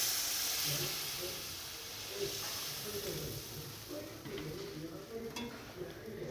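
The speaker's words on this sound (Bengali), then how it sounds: "কষানো হয়ে গেছে, এর মধ্যে এবার জল দিয়ে দেবো পরিমাণ মতো।" Water poured into a pan of sizzling fish curry, giving a steady hiss and bubbling sizzle with faint stirring and pan clatter, while a person speaks over it.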